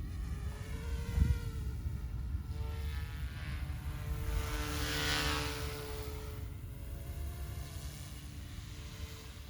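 An OMPHOBBY M2 Explore RC helicopter in flight gives a steady, droning rotor whine with a faint rising and falling pitch, continuous and moderately distant, with no talk over it.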